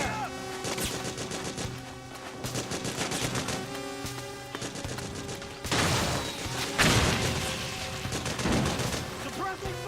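Rapid, dense gunfire bursts in the video game Metal Gear Solid 4, loud and continuous with heavier volleys toward the end over a layered game soundtrack.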